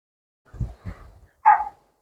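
Outdoors as dog walkers pass, a dog gives a few short, low barks and then one sharper yip, fairly close against otherwise near silence.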